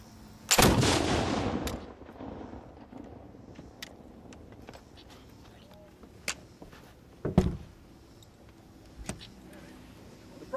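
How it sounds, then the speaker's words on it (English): A historical wall gun at Fort Loudoun fires one loud, booming shot nearby, followed by a long rolling echo, with faint movement and a few scattered knocks afterward. "Firing wall gun!"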